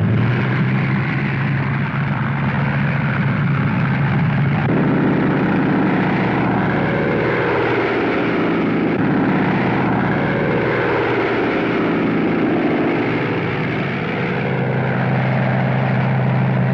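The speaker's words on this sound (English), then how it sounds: "the tower gave them the go-ahead and the bombers got underway" WW2 US bombers of the 5th Air Force taking off, with a loud, continuous propeller-engine drone that swells and shifts in pitch as multiple aircraft roar past, steady and dense throughout with no voices.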